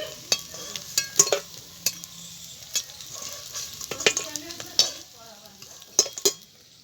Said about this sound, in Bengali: এগুলোকে আমি উল্টে পাল্টে একটু লাল লাল করে ভেজে নেব